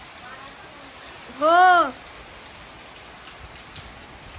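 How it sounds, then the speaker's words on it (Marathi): Heavy rain with wind lashing down during a monsoon downpour at a home, a steady broadband wash throughout, with a brief burst of voice in the middle. "अरे बाप रे आई पाऊस कसला जोरात आहे."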